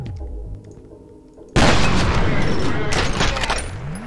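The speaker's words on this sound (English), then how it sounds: "Shotgun time." Shotgun blasts in the video game F.E.A.R. hit suddenly after a quiet stretch and become a loud, sustained barrage of booming gunfire and impacts, with a voice talking faintly underneath.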